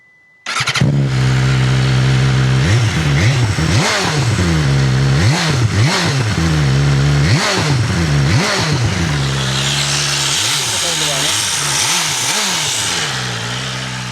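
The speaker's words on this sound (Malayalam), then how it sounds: "വണ്ടിയുടെ എൻജിൻ സൗണ്ട് കൂടെ ഒന്ന് കേൾപ്പിക്കാമായിരുന്നു" A 2026 BMW S1000RR motorcycle engine starts with a sharp catch, then idles loudly and is blipped through a series of quick rising-and-falling revs, close by, ending in a rougher, noisier idle with no one talking.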